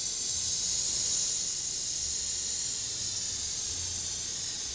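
Squirt bottle spraying paint speckles for a patina finish, a steady broad airy hiss of spray held continuously close by.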